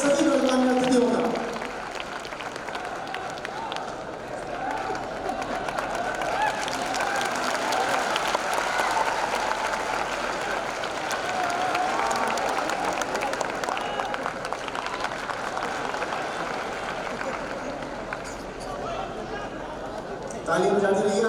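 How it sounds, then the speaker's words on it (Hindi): Sustained applause from an audience welcoming guests at a teachers' honour ceremony in Bapu Sabhagar hall, a steady wash of clapping lasting about twenty seconds under someone speaking over a loudspeaker. "तो तालियां अपने नीचे आपकी ऊपर जोरदार तालियों के साथ स्वागत करते रहिए"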